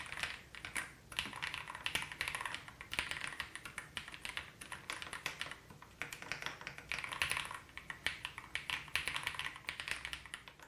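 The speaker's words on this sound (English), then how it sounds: "the keyboard is very Thocky out of the box" Rapid, steady keystrokes on an Ajazz AK820 Pro mechanical keyboard, a budget board with a deep, thocky sound straight out of the box, clacking continuously at close range with no talking.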